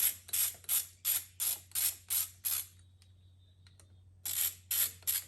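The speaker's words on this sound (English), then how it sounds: "Let's finish tightening these down." A ratchet tightens bolts on a Cobra air intake fitted to a Yamaha Bolt motorcycle, giving close, crisp bursts of rapid clicking in a regular stroke rhythm. It pauses for about a second with a few faint ticks, then resumes for three more strokes.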